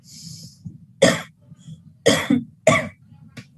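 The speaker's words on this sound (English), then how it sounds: "Stage 4, coughing." Forceful coughing during the final stage of a breathing-exercise routine: three sharp, loud coughs in quick sequence, each a burst of breathy noise, with a softer short cough at the end over quiet breathing.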